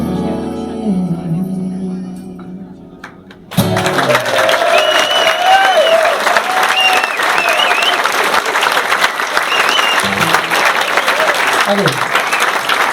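A live audience bursts into dense, sustained applause and cheering right after a song ends, loud and continuous for several seconds following a quieter stretch with a voice.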